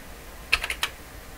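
A few quick key clicks on a Morse writer keyboard in a short burst, four taps close together, then quiet.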